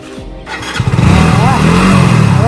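A motorcycle engine cranks, catches and settles into a loud, close, steady idle with a rough buzzing rumble, while people talk over it.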